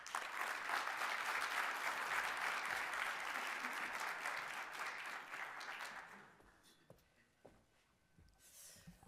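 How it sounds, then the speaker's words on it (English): An audience at a ChileDay Toronto welcome event applauds Ambassador Karolina Guay, a dense, steady wash of many hands clapping that fades away after about six seconds, leaving a quiet room with a few scattered sounds. "Please join me in giving a warm applause to Her Excellency Karolina Guay."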